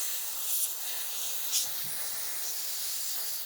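A soda blasting gun sprays baking soda media fed from a hopper during a gearbox cleanup, giving a steady loud hiss for a few seconds with brief surges and faint low knocks partway through; no one speaks.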